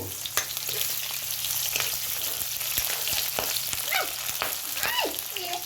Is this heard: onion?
yes